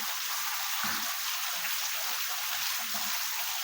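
Steady rainfall hissing evenly, with occasional soft drips and patters nearby; no voices.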